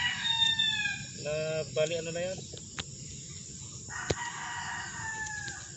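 Tethered fighting roosters crow in long, drawn-out calls, one near and others farther off, while crickets chirp steadily and a person speaks briefly.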